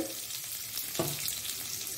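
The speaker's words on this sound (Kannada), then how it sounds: "ಸ್ವಲ್ಪ ಒಗ್ಗರಣೆಯ ಸೊಪ್ಪು ಹಾಕೊಳ್ಳೋಣ." Curry leaves dropped into hot tempering oil for a Mangalore-style red rice dish, giving a steady close sizzle and frying hiss with a brief spatter, no voices present.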